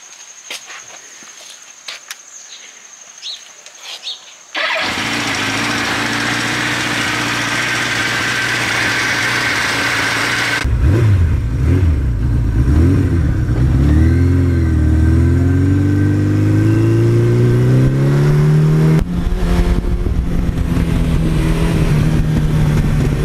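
A Suzuki GS1100E motorcycle from the 1980s with 78,000 miles starts after a few quiet knocks, then idles loudly and close, revving up and down in several rising and falling sweeps before settling back to a steady idle.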